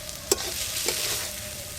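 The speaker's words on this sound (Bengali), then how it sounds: "খুন্তি দিয়ে একটু আলুগুলো ভেঙে ভেঙে দেব।" A spatula breaks up boiled potatoes with turmeric, green chili and salt in a pan for a potato filling, a soft background sizzle broken by two sharp scraping knocks.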